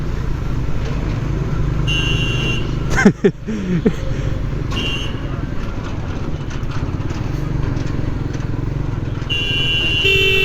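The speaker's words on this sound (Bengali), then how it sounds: "এত বড় একটা ট্রাক মুরগির মতো হর্ন" A large truck sounds a thin, high, chicken-like horn in several short honks amid loud road and traffic noise heard from a moving motorbike.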